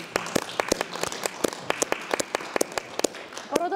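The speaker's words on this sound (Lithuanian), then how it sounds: "Plojimai Kornelijai už puikią ekspoziciją." Scattered applause from a small audience at an art lecture and discussion marking an exhibition's closing: irregular, close hand claps over about four seconds, with a few voices faintly underneath.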